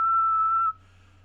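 A person imitates a whistle with the mouth: one steady, high whistled tone held for about three-quarters of a second, then cut off, leaving only a low background hum.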